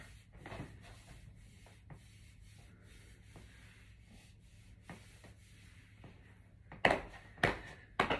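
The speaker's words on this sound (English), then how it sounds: "Little shoulder rub here." Soft, quiet rubbing of hands over shoulders during a self-care movement routine, faint repeated brushing strokes that end in a few sharper slaps, no talk.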